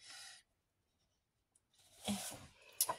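Paper rustles briefly as a page is turned, followed by a pause and then a louder shuffle of sheets being handled.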